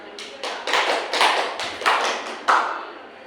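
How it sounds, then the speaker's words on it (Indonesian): A classroom group applauds during a mathematics microteaching lesson, giving a series of sharp, rhythmic clapping bursts about half a second apart, loud and close with no talk. "Oke, beri aplaus yang berat."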